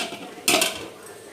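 A spoon stirs thick rice payasam in a metal pot, giving one short scraping clatter of utensil against pot, close and moderately loud, with quiet kitchen background around it.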